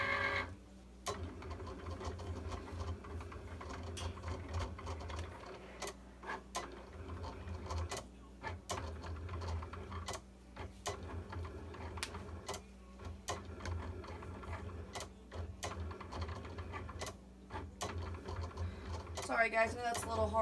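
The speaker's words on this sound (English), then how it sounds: "hit the Cricut button to cut it" A Cricut cutting machine draws on and cuts cardstock for a bow holder, its motor whirring with rhythmic clicks and short mechanical strokes repeating throughout, fairly quiet and close, with speech heard at times.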